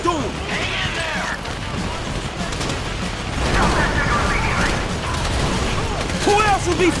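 Bursts of gunfire and impacts in a GTA V shootout on Xbox One X, loud and steady with a swell in the middle, under voices speaking intermittently.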